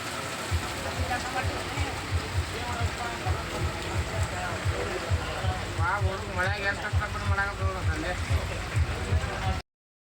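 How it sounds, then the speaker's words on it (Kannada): Steady rain patters across the whole recording at a tea stall, with a rhythmic low thumping and a voice speaking over it partway through. "ಈಗ ಮಳೆ ಬಂತು"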